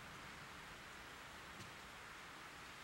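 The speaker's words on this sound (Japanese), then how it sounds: "今日も雨ですね。" Steady rain in the horror video game Fatal Frame: Mask of the Lunar Eclipse, a soft, even hiss of falling drops, faint and continuous with no voices.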